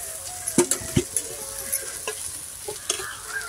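Millet bhakri made with fenugreek leaves sizzles softly in oil on a hot tawa, with scattered stirring and scraping knocks over the steady frying hiss.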